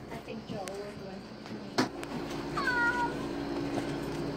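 An injured street cat in the Bronx, New York City, gives a couple of faint, thin meows during a veterinary visit, set against a steady room hum.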